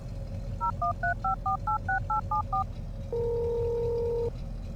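Telephone keypad dialing a call: a quick run of about ten distinct touch-tone beeps in an even rhythm, followed by a longer steady ringing tone, clear and close against a low background hum.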